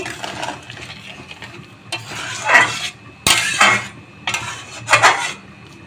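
Starfruit chutney with added sugar being stirred in a pot, a few distinct bursts of spoon scraping and clinking against metal separated by quieter gaps, with faint simmering underneath.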